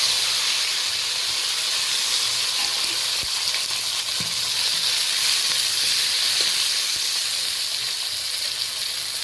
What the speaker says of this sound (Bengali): এবার আমি কাঁচা লঙ্কা আদা চেরা করে রেখেছিলাম, পেঁয়াজ আর টমেটো সবই একসাথে দিয়ে দেব।